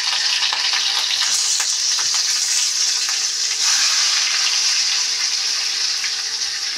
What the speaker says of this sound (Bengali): কড়াইতে তেল এসে গেছে। প্রথমে আগে আমি পেঁয়াজটা দিয়ে দিচ্ছি।